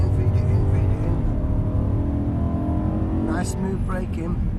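A car accelerating on a racing circuit during a driver training session, the engine's tone climbing steadily as power is fed in, heard from inside with an instructor talking over it.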